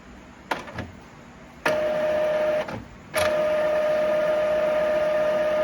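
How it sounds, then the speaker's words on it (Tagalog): Epson EcoTank L3256 inkjet printer starting up during ink setup: a few sharp mechanical clicks, then a steady whirring mechanism hum with a constant tone, loud and close, no talking. "tutunog yung printer ninyo"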